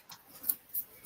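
Scissors snip paper in a few quick, crisp cuts, three or four faint clicks spaced irregularly, up close in a quiet room with no talking.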